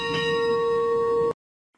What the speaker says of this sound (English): Hit that subscribe button and hit that notification bell